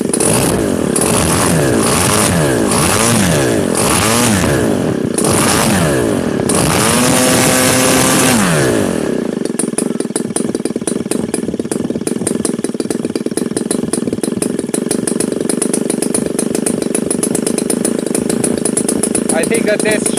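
A Super Tigre 3000 model airplane engine, converted to run on gasoline with CH ignition, revs up and down loudly at first, then settles into a steady, buzzing drone. It sounds very close.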